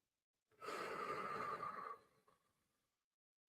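A single long, deep breath during a guided meditation, loud and close for about a second and a half, then trailing off into a softer, fading exhale before quiet.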